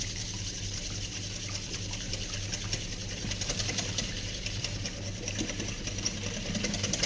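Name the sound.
whisking eggs into milk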